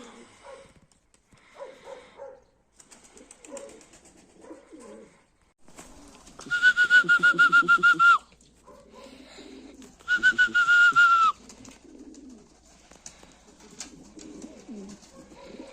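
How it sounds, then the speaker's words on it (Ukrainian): Young pigeons coo softly in a loft, with repeated low murmuring coos and two louder bursts of whistling wing flutter, heard up close and without speech. "Подивитись ці голубяток унизу, кому цікаво."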